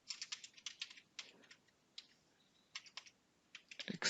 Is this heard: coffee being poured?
no